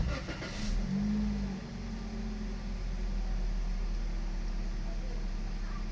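Car engine cranking to life and running at a steady idle after a clutch stuck from driving through a flooded road; a continuous low motor hum fills the clip with no clear rev surge.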